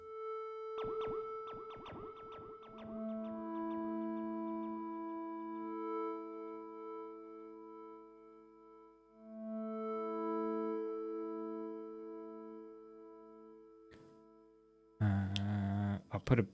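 A synthesizer tone runs through ping-pong delay and reverb, sustained notes ringing and overlapping after a dense opening flurry, then cut off by a short loud burst at the end.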